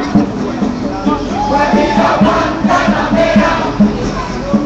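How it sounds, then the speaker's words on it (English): Crowd of about 75 people at a Latino protest rally, a lively murmur of many voices with rhythmic bursts of chanting, close and continuous. "Got a nice crowd here, about 75 people."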